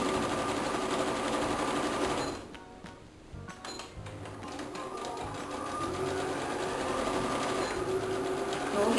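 A sewing machine stitches a zipper onto a fabric bookmark pencil case, a steady fast mechanical whirring that briefly pauses mid-run for the backstitch, then resumes and continues to the end.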